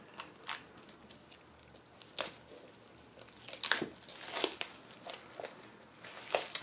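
Plastic wrapping being torn and peeled off a James Bond SPECTRE steelbook, with scattered close crinkles and sharp crackling bursts, sparse at first and then busier, no voices.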